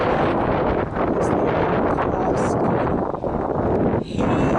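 Strong wind at Praia Grande beach in Arraial do Cabo, Brazil, buffeting the microphone in loud continuous gusts and roaring rumble, with a few brief lulls.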